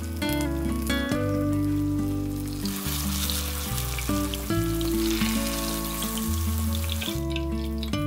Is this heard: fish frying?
yes